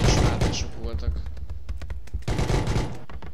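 Gunfire rattles back and forth in the video game PUBG, with dense bursts of rapid shots, loud and close, at the start and again near the end, while someone talks between them.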